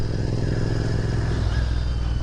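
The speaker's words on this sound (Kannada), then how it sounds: "royal Enfield continental G T six fifty same BS6" Royal Enfield Continental GT 650 BS6 motorcycle engine idling with a steady, loud low rumble throughout, close and continuous with no talk over it.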